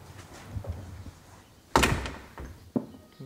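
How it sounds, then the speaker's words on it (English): A door shuts with a single solid thunk in a quiet room, followed by a softer knock a second later, close and clear with no talking. "Shut the door."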